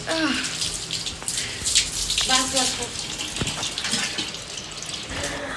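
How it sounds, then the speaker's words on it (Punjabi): Water gushes steadily from a tap as a continuous hiss, with people talking over it and a few brief clinks. "ਇੱਥੇ ਹੁਣ ਟੂਟੀ ਨਾਲ ਪਾਣੀ ਪਾ ਦੇਣੀ"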